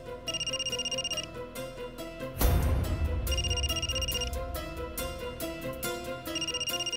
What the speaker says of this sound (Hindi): फोन वाजतोय।